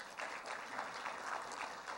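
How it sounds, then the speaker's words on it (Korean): Steady applause from an audience at a software industry award ceremony, a soft, even patter of many hands clapping throughout, fairly distant and quiet. "박수 부탁드릴게요."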